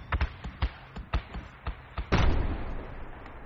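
Mortar fire in a military video game, a run of about eight evenly spaced muffled thumps followed by a heavier, longer blast that trails off, heard at a moderate distance.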